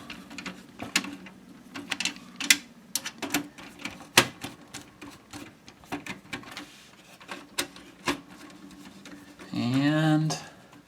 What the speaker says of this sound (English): Then once everything's started, you can go ahead and run your screws in.